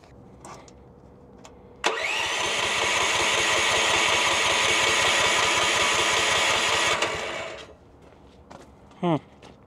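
Chinese mini skid steer engine starts abruptly and runs loud and steady with a fast mechanical chug, then cuts off, leaving quiet with a brief voice near the end.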